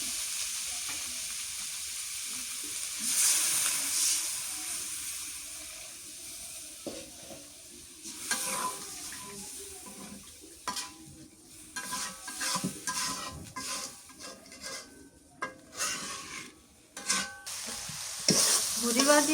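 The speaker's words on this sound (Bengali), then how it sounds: "আমি একটু একটু করে পানি দিয়া সুন্দর করে কষাই নিলাম" Home-grown leafy greens being stir-fried in a pan with a little water added, giving a steady sizzle broken by repeated scraping stir strokes that come in uneven bursts, close and moderately loud.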